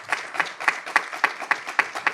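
Audience applause at an aerospace agreement signing event honoring the Bahamas tourism and aviation minister: steady, evenly spaced claps, moderately loud, with no talking.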